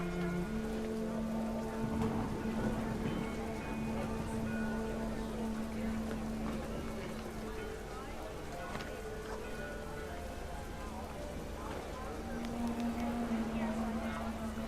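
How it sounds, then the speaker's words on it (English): Heavy rain pours steadily in What Remains of Edith Finch, a dense continuous wash that holds at an even level throughout, with a sustained musical drone underneath. "The rain came down in buckets then"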